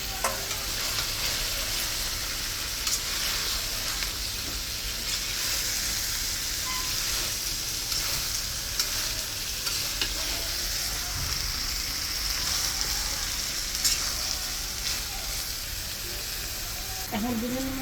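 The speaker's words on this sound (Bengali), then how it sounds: "এখন ভেজে রাখা আলুগুলি দিয়ে দিলাম।" Fried potatoes hit a pot of chicken biryani and sizzle with a continuous oily crackle, with scraping stir strokes at moderate volume close by and no talking.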